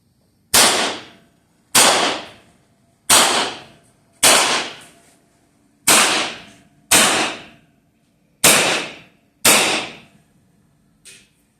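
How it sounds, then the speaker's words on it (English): Viper X air rifle firing eight sharp, loud shots at a steady pace of roughly one every 1.3 seconds, each a crisp crack with a short decaying tail, with quiet gaps between and no talking. "So let's give it a few shots, see how it does."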